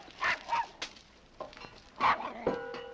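A dog barking and yipping in a handful of short, sharp bursts at close range, with a brief whimpering tone near the end.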